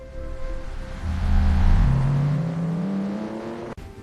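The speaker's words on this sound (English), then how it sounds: "Hello, I am a car. I run on the road." A car engine swells as it passes close by on a road, its pitch rising as it accelerates before fading away, ending with a brief click.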